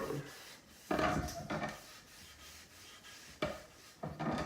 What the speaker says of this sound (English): Just gonna kind of evenly rub it on.